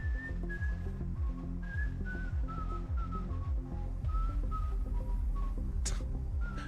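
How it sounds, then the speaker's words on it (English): Someone whistles a wandering melody of short notes into a live microphone during an esports tournament broadcast, over a quiet, rhythmic low beat, close to the microphone. "Bro's fucking whistling this."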